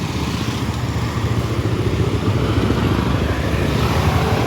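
A motorcycle engine rumbles steadily on a road close by, a continuous low throbbing drone that grows slightly louder as it approaches, with no speech.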